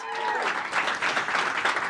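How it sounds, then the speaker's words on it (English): A startup demo-day audience applauds warmly, a dense wash of clapping under a speaking voice that starts it off, fairly loud throughout the short burst. "give yourselves a big round of applause"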